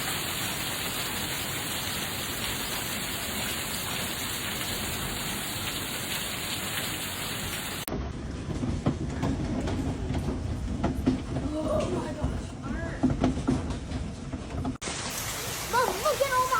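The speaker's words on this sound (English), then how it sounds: "look at all that hail right there" Hail pouring down during a massive Oklahoma City hailstorm, a dense continuous hiss and clatter of ice striking surfaces, loud and close, shifting in texture partway through as the scene changes.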